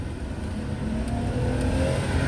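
Car driving through residential alleys and streets beside Atlantic Park, engine pulling steadily with rising harmonics as it accelerates, a continuous mid-level drone with road noise and no talk.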